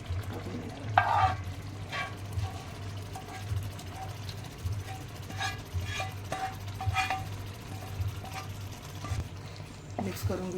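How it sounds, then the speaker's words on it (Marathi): Hot tadka poured into chicken pav bhaji and stirred in a pan, with steady sizzling, scraping spoon strokes and occasional clinks of utensil on metal over a low background hum. "आता हा तडका आपण भाजीमध्ये टाकून घेऊया."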